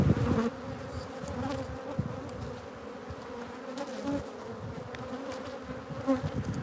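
Honey bees buzz continuously at an opened hive during a frame inspection, a dense, close, steady hum with individual insects droning past the microphone, with no talking.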